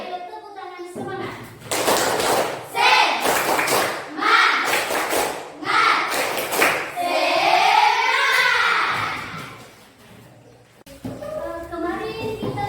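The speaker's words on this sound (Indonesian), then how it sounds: "Ayo tepuk tangan semangat." A classroom of children claps in rhythmic bursts in response to a teacher, loud and close, mixed with young voices and brief talk before and after.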